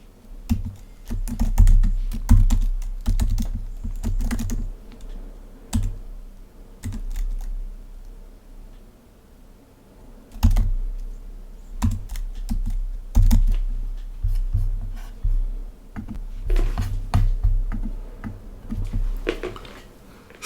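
Code is typed on a computer keyboard in close, crisp clusters of keystrokes, with short pauses between bursts and no talking.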